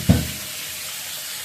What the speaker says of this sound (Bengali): সবগুলো মাছ একসাথে ছেড়ে দিচ্ছি, একসাথে একটু উল্টো পাল্টে নেব